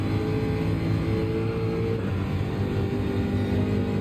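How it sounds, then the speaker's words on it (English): A race car engine in Gran Turismo 7 drones steadily at high revs on the Road Atlanta circuit, a loud, constant buzzing roar that fills the clip without a break. "the engine sound is lovely, though."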